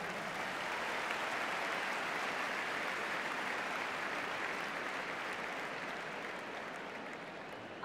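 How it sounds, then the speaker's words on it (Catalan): Large crowd applauding at an outdoor freedom concert in a stadium, a broad steady roar of clapping from a distance that continues evenly and eases off slightly near the end. "Un aplaudiment per ells, de veritat."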